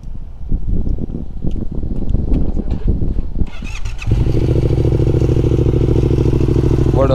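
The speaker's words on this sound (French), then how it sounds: "on entend un petit cliquetis, mais c'est pas les soupapes, c'est juste ma ligne d'échappement qui est assez longue et qui tape dans le bas moteur" A motorcycle engine starts and settles into a steady, loud idle, with a long exhaust line lightly clicking against the bottom of the engine; before it starts there is handling noise and wind.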